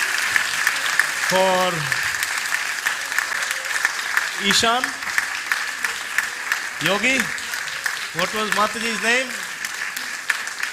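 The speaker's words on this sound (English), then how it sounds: "can we please have a round of applause for Bharati" Steady audience applause at a temple gathering, continuous and fairly loud clapping beneath someone speaking over it.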